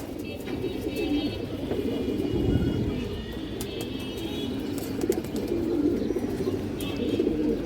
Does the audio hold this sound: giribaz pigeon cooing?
yes